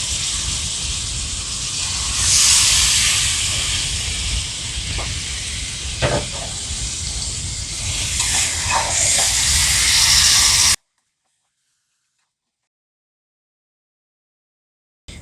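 Washed buffalo meat dropping into frying spices, a loud sustained sizzle and hiss with a few sharp crackles and scraping stirs for about ten seconds, then sudden silence.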